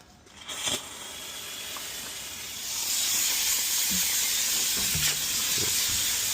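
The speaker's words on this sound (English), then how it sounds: "there is the steamer inbound" A steam cleaner hisses steadily while deep cleaning a lorry cab interior, a broad continuous spray that swells louder partway through, with a few faint knocks and clicks mixed in.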